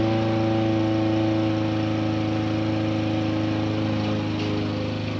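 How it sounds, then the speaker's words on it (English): A lawn mower engine drones steadily and loudly throughout, a constant mid-pitched hum with no pauses or voices. "Great, we get to compete with the lawnmower."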